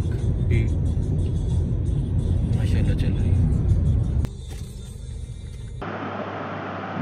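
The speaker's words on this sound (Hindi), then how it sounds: "ट्रैफिक एज यूजुअल है रोड पे" Road traffic on a Lahore street during lockdown, a steady dense rumble of passing cars and engines that drops to a quieter, thinner hum near the end, with voices mixed in.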